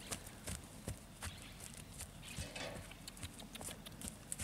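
A black moro horse walks on firm ground, its hooves striking in an irregular clip-clop of sharp, close knocks, with faint ambient noise and no talk.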